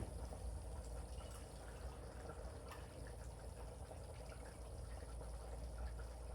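Michelob beer pours into a baste for a whole suckling pig, a soft continuous glugging fill that runs several seconds at low volume, without speech.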